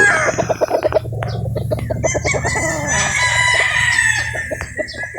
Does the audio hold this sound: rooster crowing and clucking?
yes